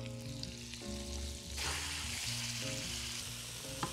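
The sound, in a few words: potatoes frying in butter in a hot wok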